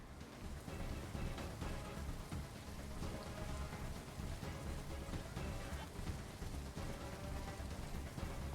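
Steady rain in the Riftbreaker video game, a dense continuous hiss of drops falling on surfaces, loud and unbroken throughout with no talk.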